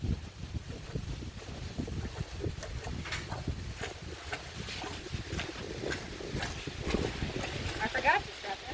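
A horse and buggy passes on a rural road outdoors, hooves clip-clopping amid wind noise, a steady trotting rhythm with voices talking nearby.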